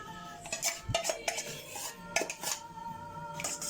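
Maja Blanca ingredients with condensed milk stirred in a bowl, a spoon clinking and scraping against the sides in irregular close strokes, with no voices.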